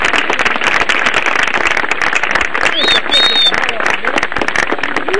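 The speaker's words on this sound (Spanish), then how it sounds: "Un aplauso para Oliveros." Applause and cheering from a crowd celebrating the 100th anniversary of Oliveros at a Baptist association grounds, dense continuous clapping with voices talking and shouting over it and a brief whistle.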